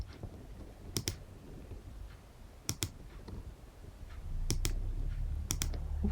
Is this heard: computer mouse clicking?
yes